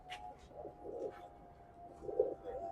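Kaldom pigeons coo softly in a household loft, with a few low murmuring coos in two short bursts against quiet background hum.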